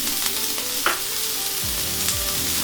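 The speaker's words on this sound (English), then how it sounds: "we're just going to get some colour on the onion" Chopped onion frying in a cast iron pot alongside red and yellow pepper and celery, a steady close sizzle with a few scraping stirs of a utensil near the end.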